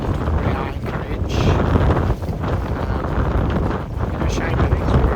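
Strong wind gusting past a sailing boat heading toward an anchorage in Croatia, a loud, steady roar of broadband wind buffeting the microphone throughout, with rushing water mixed in.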